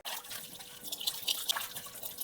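Water running and splashing while a washed bowl is rinsed in a sink, a close, moderately loud trickle with small drips and no talking.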